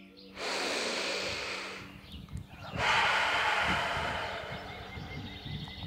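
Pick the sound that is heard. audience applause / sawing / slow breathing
slow breathing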